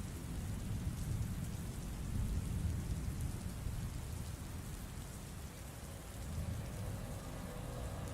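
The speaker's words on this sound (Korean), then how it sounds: "비가 오네." Steady rain pours down with a deep, rolling thunder rumble beneath it, a dense, even hiss that lasts throughout at moderate loudness with no voices.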